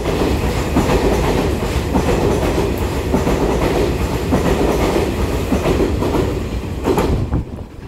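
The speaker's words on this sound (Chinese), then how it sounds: "绿色带七彩机车列车在瑞芳瑞芳站已经顺利的通过" A twelve-car EMU3000 electric train passes through Ruifang station, its wheels clattering rhythmically over the rails in a loud, steady rush that fades slightly at the end, with no talk.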